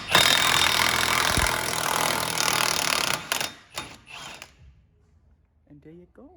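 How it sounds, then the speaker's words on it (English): An impact tool whirs loudly and continuously for about three seconds while removing the rear axle nut on a 2001-2005 Lexus IS300 during wheel bearing work, then stops in a few short bursts; a voice speaks briefly near the end. "we're gonna hit the axle nut off"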